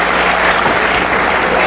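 Wrestling arena crowd cheering and applauding loudly and continuously, a dense sustained roar of many fans.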